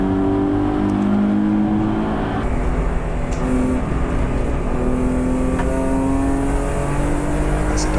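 Race car engines roar continuously with shifting pitch as the cars rev and drift on all four wheels through a corner at Dijon circuit, a steady loud motor drone throughout.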